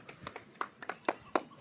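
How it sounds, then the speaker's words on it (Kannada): Children clap for the girl who won a game in a casual home setting, a sparse, uneven handful of claps at close range, about ten in under two seconds. "ಎಲ್ಲರೂ ಕ್ಲಾಪ್ಸ್ ಮಾಡ್ರಿ ಕೀರ್ತನಂಗ"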